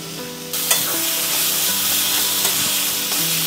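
Fig curry frying in a pan, loud continuous sizzling with occasional scrapes and knocks of a spoon being stirred through it, close up with no voices.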